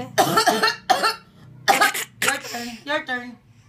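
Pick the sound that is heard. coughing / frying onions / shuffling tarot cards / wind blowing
coughing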